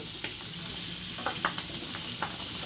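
Small prawns fry with onions in a pan, giving a steady soft sizzle with a few brief stirring clicks.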